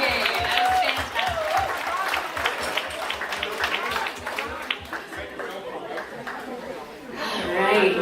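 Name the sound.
wedding guests applauding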